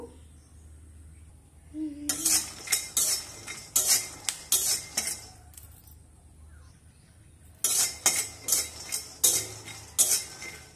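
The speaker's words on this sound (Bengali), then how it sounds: "এবার বাদামটা ভেজে নেব। দুটো শুকনো লঙ্কা আছে, এগুলো বাদামের সঙ্গে দিয়ে দেব।" Peanuts with two dried red chillies fried in a pan, heard as bursts of metal utensil scraping and clinking against the pan in two separate runs, close and moderately loud over a quiet background.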